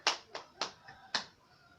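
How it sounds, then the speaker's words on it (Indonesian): A few scattered hand claps in a school classroom after student presentations, four separate sharp claps spaced irregularly, close and moderately loud, with quiet room tone between them. "Tepuk tangan untuk kita semua."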